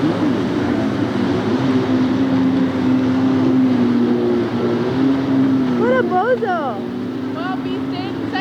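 Jet skis race on Lake Tapps during a 1992 Budweiser Series event, a steady engine drone holding throughout with crowd voices and chatter over it.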